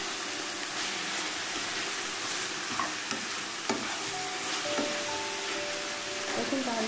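Cabbage with dry fish and coriander leaves stir-frying in a pan, with a steady sizzle and scattered clinks and scrapes of a spatula stirring throughout; no talking.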